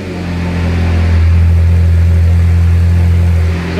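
A rebuilt, previously crash-damaged Ferrari F430 V8 running steadily at a raised idle, loud and close, with a deep continuous drone that swells slightly and then eases toward the end.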